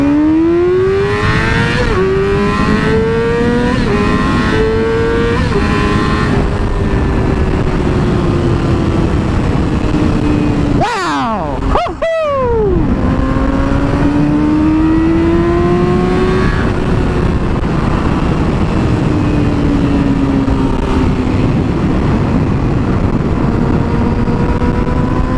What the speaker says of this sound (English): we're just going to do a quick 0 to whatever the heck we hit